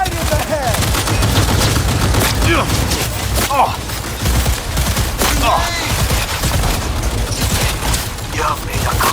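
Loud, relentless gunfire from the video game Cyberpunk 2077: rapid automatic bursts and sharp shots stack densely with mechanical clatter, while voices break in at moments.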